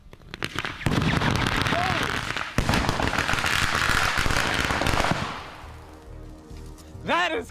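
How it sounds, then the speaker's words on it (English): A thermite reaction ignites with sharp crackling bursts and a sustained, loud fizzing roar that fades over several seconds. Whooping voices rise near the end. "Nothing happened in the bucket with that giant explosion."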